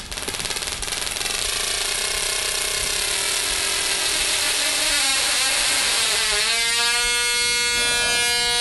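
A high-frequency coil throws an electrical discharge that heats the air. The loud, harsh buzz is continuous and close, and its tone climbs into a rising whine as the power is stepped up, with no voices.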